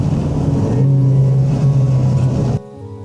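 A 1969 Alfa Romeo GT Junior drives along a wet country road in the rain, its engine a steady, loud rumble close by that cuts off abruptly near the end, leaving a quieter hum.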